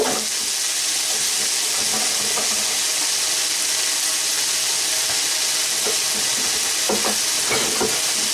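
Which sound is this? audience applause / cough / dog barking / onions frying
onions frying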